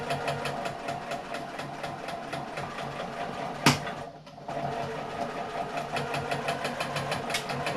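A sewing machine stitches over a tote bag strap, its needle running in a fast, steady mechanical chatter close by, broken by one sharp clack and a brief pause before the stitching resumes.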